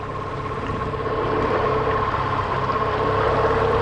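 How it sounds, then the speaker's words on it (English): A small dinghy outboard motor drones steadily over water, a constant mid-pitched hum with rushing wash, close and continuous. "we are cruising quietly back to the boat"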